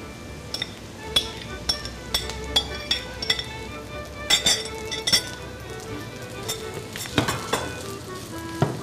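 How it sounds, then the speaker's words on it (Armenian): Bulgur fries with onions for dolma stuffing, a steady sizzle punctuated by repeated bright clinks of a spoon against the pan in an irregular stirring rhythm, close up. "Նա հաճարը ավելացնում ենք սոխարածի վրա մեր"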